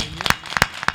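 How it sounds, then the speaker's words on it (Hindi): An audience claps at a kavi sammelan poetry gathering in Unnao, a short burst of fairly close, uneven hand claps in quick clusters. "एक बार मुझे ऊर्जा देने के लिए आप सभी जोरदार तालियां बजाइए"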